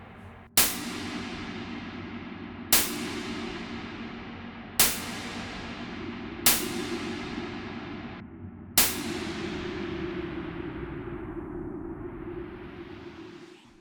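Five sharp percussive hits spaced about two seconds apart, each followed by a long, smooth reverb plugin tail that rings out and decays; the last tail swells and lingers.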